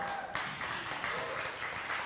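A congregation at a Sunday celebration service gives a round of applause, steady, moderately distant clapping that runs throughout, with a faint tone and murmur underneath.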